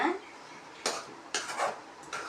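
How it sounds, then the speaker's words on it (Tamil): Maggi noodles being stirred slowly in a pan, heard as a few separate scraping, clinking strokes of the utensil against metal, with quiet gaps between them. "நல்லா பொறுமையாக கிண்டுங்க"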